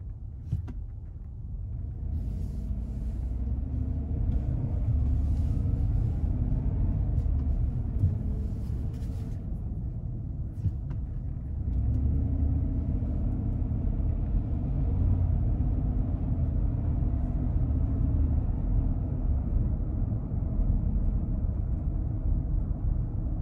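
A 2020 Chevy Suburban Premier RST with a 6.2L V8 accelerates at full throttle, a deep, steady engine rumble heard from inside the cabin with a gear change partway through and no talk.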